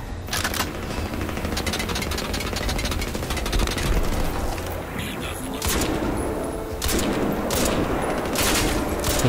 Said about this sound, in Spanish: Te estoy disparando en la cabeza